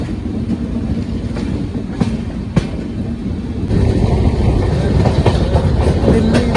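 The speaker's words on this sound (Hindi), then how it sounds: "जाखल जंक्शन पर अराइविंग करती हुई जबलपुर एक्सप्रेस।" Jabalpur Express arriving at Jakhal Junction on a single electric line, a steady rumble of rolling rail cars with clickety-clack wheel beats, growing slightly louder partway through, no talking.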